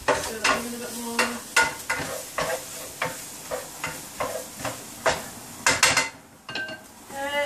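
Onion stirred and frying in a pan for cockle fritters, with steady sizzling and repeated scraping, clinking strokes of a utensil against the pan in a loose rhythm, close and fairly loud.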